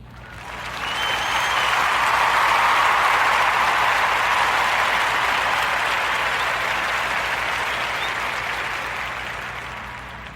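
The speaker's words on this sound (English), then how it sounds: "give a warm Narrative Podcast round of applause" A warm round of applause from a crowd swells in over the first second or two, holds as a thick, steady wash of clapping, then gradually fades away toward the end, with no talking.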